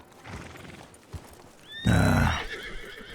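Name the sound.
horses neighing and galloping in a video game (Red Dead)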